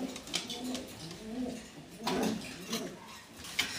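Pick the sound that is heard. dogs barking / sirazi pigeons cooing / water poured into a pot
sirazi pigeons cooing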